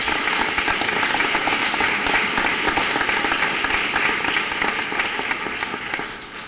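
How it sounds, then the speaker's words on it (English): A ceremonial session audience at the Supreme Court of North Carolina's bicentennial breaks into dense, sustained applause that fills the room, holding steady before gradually tapering off near the end. "Let's give them all one more round of applause."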